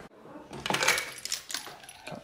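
Car keys jangle and clink as they are picked up, a short bright metallic rattle close by with no talking.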